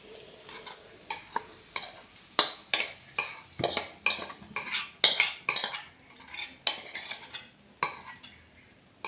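Boiled tamarind water stirred in a pan with fried ingredients for puli inji: repeated clinks and scrapes of a metal spoon against the pan in an uneven rhythm, close and fairly loud.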